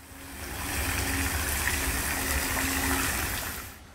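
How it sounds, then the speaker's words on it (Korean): Water pours steadily from the left tier of the Ara waterfall, a two-tier falls, in a dense, close rushing roar that swells in and fades at the ends, with no voices. "왼쪽 폭포부터 물이 떨어집니다. 수량이 정말 대단하네요."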